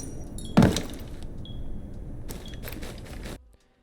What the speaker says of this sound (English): You can hear them open the hatches, and then you can also hear them when they drop the hatches, or they bolt the skylight.